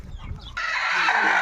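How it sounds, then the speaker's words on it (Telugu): A Peru breed hen on a poultry farm gives a few soft low clucks, then a loud sustained crowing-like call rings out close and clear. "ఇది వచ్చేసి ఒరిజినల్ పెరుగు పెట్ట."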